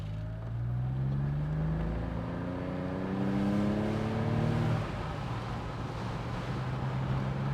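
A 1980s Maserati Biturbo Spyder's 2.8-litre turbo engine accelerates hard through the gears, its note rising steadily then dropping at a shift before climbing again, a continuous loud drone.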